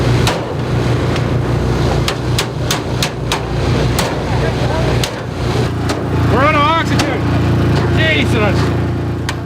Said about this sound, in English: as you may be able to hear, they're going to be cutting all the metal out that's been crushed into the engine